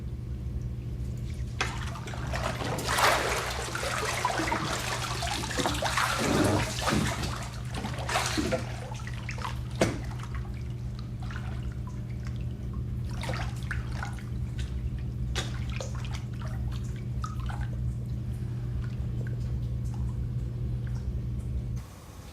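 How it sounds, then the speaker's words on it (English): Water runs steadily from a shower for a long stretch, with splashes and drips scattered over a constant hiss; no one speaks. "I'm gonna go take a shower now."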